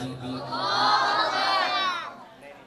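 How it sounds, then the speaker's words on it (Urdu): A large crowd at a religious graduation gathering roars back a Takbeer slogan in unison, many voices including children swelling into one loud, sustained shout that fades out over about two seconds. "آپ تمام حضرات دونوں ہاتھوں کو بلند کر کے نعرے کا جواب دیں"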